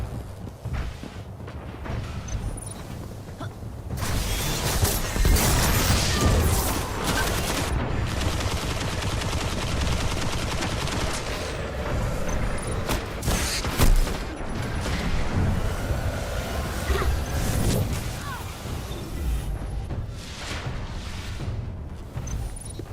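Gunfire from a gun in Destiny rattles almost without pause, with dense rapid shots and occasional heavier booms in a sustained loud barrage.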